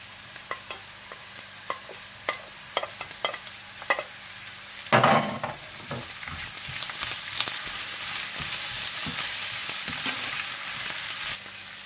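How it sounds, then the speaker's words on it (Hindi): Onions cook with browned potatoes in a pan for a Spanish omelette. A spatula taps and scrapes rhythmically over a soft sizzle, then a burst of stirring gives way to a louder, steady frying hiss. "आप इसमें प्याज डालकर थोड़ा सा पका लें"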